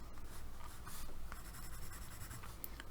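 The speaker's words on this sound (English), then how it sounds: "So let's just try the pencil first." A Staedtler 5B pencil drawing on pastel paper makes a soft, continuous scratchy scraping with faint stroke-by-stroke swells, close up and quiet, with no talking.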